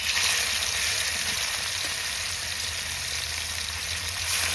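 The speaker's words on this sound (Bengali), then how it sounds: "কড়াইয়ে তেল দিয়ে দিয়েছি, এখন আমি চিংড়িগুলোকে ভেজে নেব।" River shrimp frying in hot oil in a wok, with a steady, loud sizzling hiss that holds constant throughout and has no voices over it.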